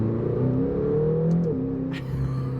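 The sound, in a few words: McLaren GT accelerating in second gear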